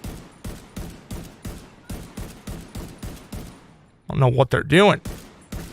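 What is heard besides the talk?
gunfire while shooting enemies in video game The Division 2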